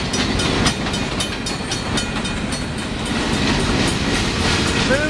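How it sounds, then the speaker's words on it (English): Trains rolling along railroad track in a town, a steady, loud, continuous rumble with rhythmic clattering of wagons passing close by throughout. "Moving these trains up and down the track all day, every day."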